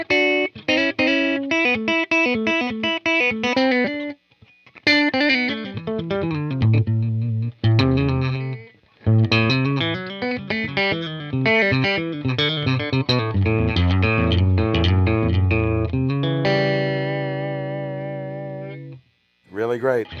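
Electric guitar on the middle pickup through a Goodsell Valpreaux_21 amp with light reverb, playing fast distorted licks and sustained notes close up, a short gap partway, then a ringing held chord.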